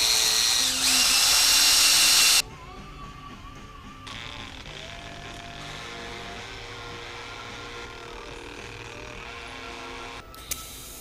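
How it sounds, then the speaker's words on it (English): Power drill boring and tapping a screw hole in metal during fabrication of a 1/14 scale lowboy trailer for a semi truck, a loud burst first, then a steadier quieter whir running throughout. "I want to drill and tap my screw hole."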